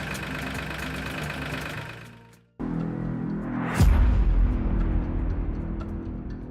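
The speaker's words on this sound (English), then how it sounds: "Start the engine and let it idle." A Solis 26 compact tractor's diesel engine idling close by with a steady knocking chug, briefly cutting out before running again with a louder, rougher rumble; no voices.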